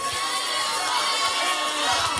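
A comedy show audience in Phoenix, Arizona cheers and shouts together, a dense, steady wall of crowd noise with excited whoops rising throughout.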